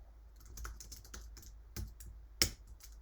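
Quiet, close keystrokes clatter on a computer keyboard in an irregular burst of taps, with one sharper key strike near the end.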